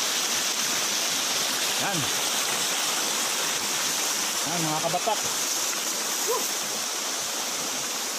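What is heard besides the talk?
stream flowing at Adarna Falls, Bulacan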